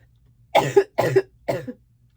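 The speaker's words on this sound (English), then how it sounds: "I'm going to start coughing." Three separate coughs, evenly spaced about half a second apart, loud and close, with quiet between them.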